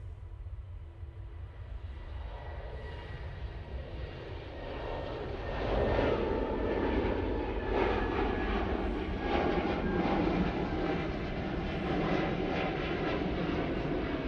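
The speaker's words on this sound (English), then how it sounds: "Lufthansa going back off to Munich now using their A320 Neo." A Lufthansa Airbus A320neo departs Manchester Airport for Munich, its engine roar swelling from a distant rumble into a loud, sustained broadband thrust that holds steady to the end.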